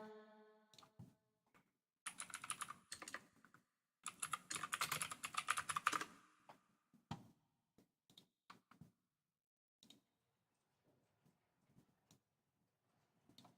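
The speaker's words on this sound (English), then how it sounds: "Not enough typing." Computer keyboard typing in short bursts of rapid clicky keystrokes, two dense flurries early on, then scattered single taps with quiet gaps, close and crisp with no talking.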